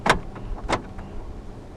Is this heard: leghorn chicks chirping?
no